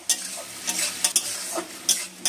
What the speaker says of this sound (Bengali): তো সব সসটা দিয়ে দিচ্ছি এটা আগে তেলে, দিয়ে একটু ভালো করে নেড়ে নেবো।